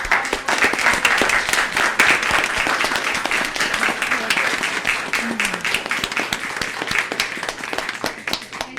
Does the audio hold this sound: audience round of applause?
yes